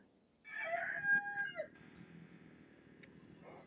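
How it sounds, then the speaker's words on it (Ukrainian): A rooster crows once from a moderate distance, a clear cock-a-doodle-doo, followed by quiet outdoor ambience. "перегукуються півні"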